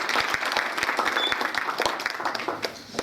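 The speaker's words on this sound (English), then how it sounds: "I think, a nice round of applause for their support always." Audience applause at a community mural unveiling, a steady wash of many hands clapping with a few sharp individual claps standing out, fairly loud and continuous throughout.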